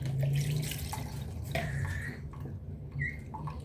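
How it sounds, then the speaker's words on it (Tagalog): Tap water runs steadily from a kitchen faucet as a chopping board is rinsed underneath, with soft splashing, drips and brief clatters of the board, fairly quiet and close. "Ugasan muna natin ang chopping board."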